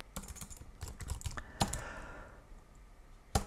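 Someone types on a computer keyboard, with quiet, irregular bursts of key clicks and a couple of sharper, louder keystrokes set against a faint room background.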